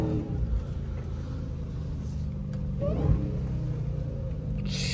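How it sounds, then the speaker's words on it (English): A Dodge Hellcat engine rumbles steadily from inside the car, then gives one short rising rev blip on a downshift. "Downshift. Give it one, Davo."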